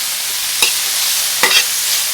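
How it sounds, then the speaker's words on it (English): Garlic softening in a pan for a grilled cheese and Philly cheese melt gives a steady, close sizzle, broken by two brief scraping stirs near the middle and end, with no voices. "we're gonna get a little bit of garlic ready. Gonna kind of just get them softened a little bit"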